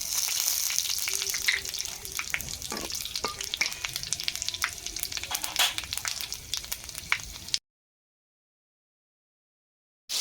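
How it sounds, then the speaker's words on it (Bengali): Three dried red chilies and panch phoron spluttering in a little oil for a vegetarian dish, a crackling sizzle with scattered pops and stirring clinks that cuts to silence near the end. "অল্প তেল দিয়েছি তিনটা শুকনো লঙ্কা আর এখানে দেখুন এই পাঁচ ফোড়ন নিয়েছি"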